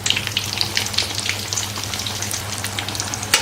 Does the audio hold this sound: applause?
no